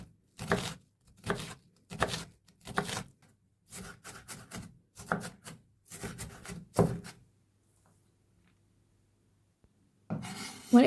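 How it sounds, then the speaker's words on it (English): An onion is chopped finely on a board in steady bursts of close knife strokes, separated by short pauses, followed by a brief rasp of garlic cloves on a grater at the end. Nobody speaks. "chop 1 small onion finely and then grate a couple of cloves of garlic"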